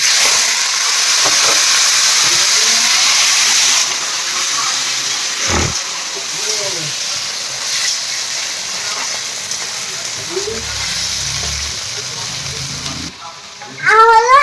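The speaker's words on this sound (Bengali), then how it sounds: "সিদ্ধ করা আলুগুলো দিয়ে দিচ্ছি" Boiled potatoes go into a hot pan for vegetarian aloo dum, bringing a loud, continuous frying hiss with occasional clinks and a sharp knock partway through, and a brief louder clatter at the end.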